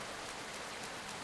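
Rain falling outdoors, a steady, fairly close hiss of drops on a surface, even and continuous throughout with faint pattering texture and no voices.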